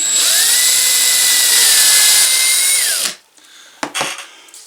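A power sander or similar rotary tool works on wood, a loud steady whine holding for about three seconds before winding down, followed by a few soft handling knocks.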